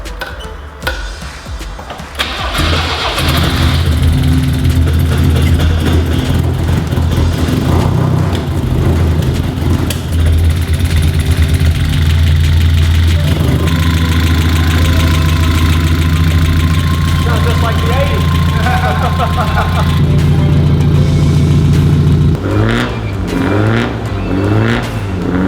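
A Toyota RA40 fitted with a swapped 18RG twin cam engine starts and runs, settling into a loud, steady idle with blips of revving, while voices speak over the engine.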